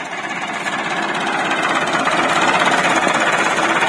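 A tractor engine runs with a loud, rapid, rattling knock that builds slightly, close by and without speech.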